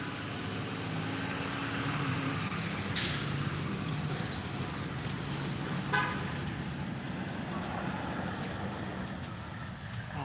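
A bus and other traffic pass in a street outside, a moderate rumbling hum with a couple of short horn toots standing out, heard from some distance.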